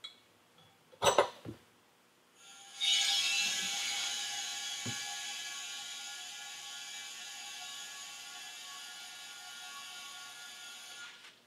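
Fitting on a CA Technologies pressure pot for resin casting, with a few sharp mechanical clicks and knocks from the tightening, then a loud sustained hiss of compressed air that slowly fades over several seconds.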